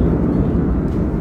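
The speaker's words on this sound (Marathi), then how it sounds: "आणि विमान उडतंय समुद्रावर." Steady loud low roar of an airplane cabin during flight over the sea, heard from inside, a constant broadband drone with no speech.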